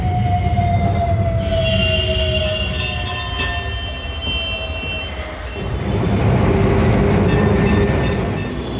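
A Kolkata tram rolls along rails with a rumbling drone and high metallic wheel squeals that slide and fade, continuous and fairly close, without speech.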